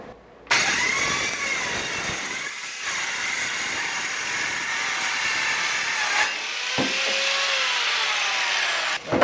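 A small Eastwood mini metal saw cuts through metal with a steady, loud high-pitched whine and grinding rasp that binds and strains, running continuously with a brief dip before resuming.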